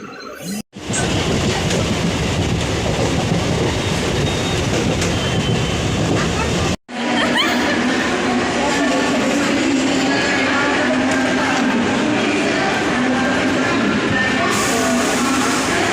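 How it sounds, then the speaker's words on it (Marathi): A train pulling out of CST station in Mumbai rumbles steadily along the rails, loud and close, with a brief break near the start and another around the middle, then continuing. "तर आता ट्रेन चढून चाललं."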